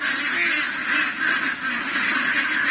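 A flock of ducks kept on a farm in Nueva Ecija quacks and honks continuously, a dense overlapping chorus at steady volume with no talking.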